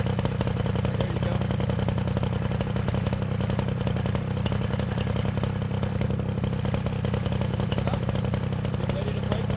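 A powered paraglider engine runs steadily through ground training in Florida, a loud, close, buzzing drone at constant throttle with no pauses.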